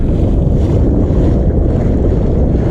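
A kayak on rough water, with loud constant wind buffeting and waves washing against the hull, steady and close throughout.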